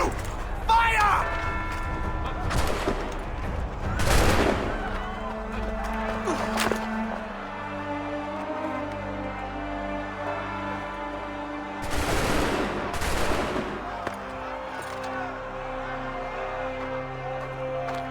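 In the video game Assassin's Creed III, musket volleys crack out in two loud bursts of crackling gunfire several seconds apart, with shouted voices and ringing, sustained tones around them.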